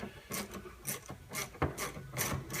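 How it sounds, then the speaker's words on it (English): Bolts come off the clutch cover of a 2015 Polaris Ranger 900XP, loosened with a 5/16 flex socket: a quick run of close, raspy ratcheting clicks in short repeated strokes. "remove the 8 bolts that hold the clutch cover on using the 5/16 flex socket"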